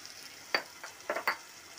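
Ground spices (turmeric, chili powder, cumin) being stirred and fried in a pan for a jackfruit and shrimp curry, with a few short sizzling bursts over a quiet background, close by and moderately soft.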